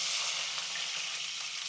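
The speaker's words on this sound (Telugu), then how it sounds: "అయితే ఇప్పుడు ఇందులో ఆనియన్ వేసుకోవాలి." Onions frying in hot oil with cloves for a mutton curry make a loud, continuous close-up sizzle that stays bright and steady throughout the short stretch.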